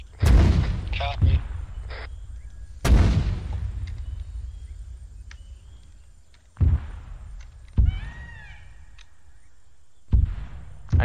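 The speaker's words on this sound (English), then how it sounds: "Keep those incoming mortars incoming." Incoming mortar rounds in a Vietnam War video game: several loud, heavy booming impacts at intervals, some close and sharp, each trailing off into a rumbling decay, with quieter thuds and background battle noise between them.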